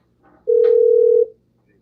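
A telephone call being dialed: a single clear steady tone lasting under a second, loud and close, with faint background murmur before it and nothing after.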